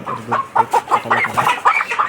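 Layer hens on a poultry farm clucking in quick, close, repeated bursts, loud and with no talking over them.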